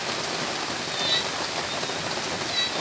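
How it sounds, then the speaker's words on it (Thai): Steady rain pours down outdoors on grass and trees in Thailand, a dense, even hiss of drops on surfaces with no let-up and no voices. "ฝนตก ค่ะ ฝนก็บ่ตกแห้งดอกค่ะต้นไม้ก็ชุ่มชื้น"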